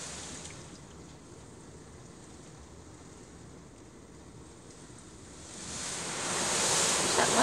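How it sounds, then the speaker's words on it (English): A Ryko Radius automatic car wash runs its blow rinse, a soft, steady rush of air and spray that swells into a louder, harsher blast in the last couple of seconds. "I think after the spot-free rinse, it's going to be the blow rinse."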